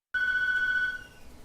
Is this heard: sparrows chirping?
no